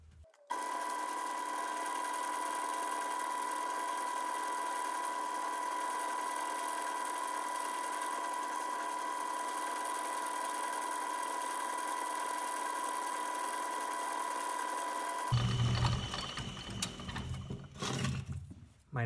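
Metal lathe running in back gear while parting off a part for a tattoo chair replacement, a steady loud machine drone with tonal whine lasting most of the clip, then rougher clattering handling noises near the end.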